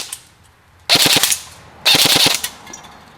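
Two loud bursts of full-auto fire from an Umarex AER 16 airsoft rifle, each lasting about half a second with rapid rattling shots, outdoors and close, with quiet between.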